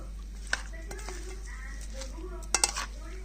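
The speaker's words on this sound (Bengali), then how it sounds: "এইভাবে ভালো করে মিশিয়ে নেব এইভাবে ভালো করে মেখে নিচ্ছি" Chilli pickle being mixed and kneaded in a bowl, not by hand: soft stirring and scraping with a few sharp clinks of a utensil against the container, close up over a low steady hum.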